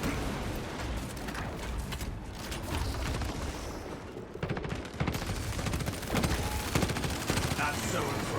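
Gunfire from a sniper build in the Warhammer 40,000: Space Marine 2 video game, with dense volleys of shots and blasts that carry on steadily throughout, heard under occasional talk.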